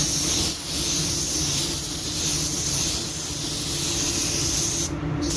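A spray gun lays clear coat onto a spot-repaired car fender after the flash time, giving a steady, close, continuous hiss that runs without a break and stops abruptly near the end.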